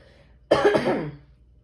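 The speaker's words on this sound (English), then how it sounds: "Hold on, I have to clear my throat." A single harsh throat clearing, close and fairly loud, lasting under a second and fading into quiet.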